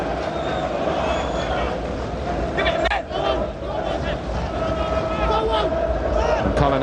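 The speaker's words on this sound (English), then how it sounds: "Rightly applauding the pass to him." Football stadium crowd at a 1993/94 Premier League match between Blackburn Rovers and Chelsea, applauding a pass: a dense, steady roar of cheering and clapping throughout, with a commentator's voice over it.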